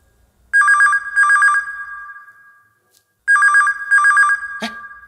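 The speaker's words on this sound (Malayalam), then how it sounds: "കഴിയുന്നതും 3 റിങ്ങിൽ ഫോൺ എടുക്കണം." An office telephone rings in two double-ring bursts, loud and close, separated by a short silence, with a brief click at the end of the second burst.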